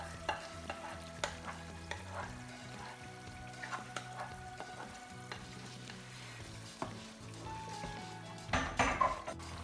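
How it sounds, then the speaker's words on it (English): Blended mixture of two tins of plum tomatoes and pepper going into a simmering Ghanaian kwenkwen rice stew, with steady stirring, sizzling and occasional clinks of a spoon against the pot, louder scraping near the end. "I'm adding our last ingredient, which is the mixture of 2 tin plum tomatoes and pepper."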